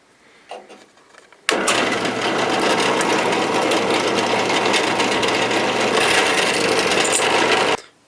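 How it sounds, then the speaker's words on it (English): A drill bores through clamped knife parts, starting abruptly after a brief knock and running as a loud, steady, grinding whine for about six seconds before cutting off. "Now I'm going to just drill down through on this hole."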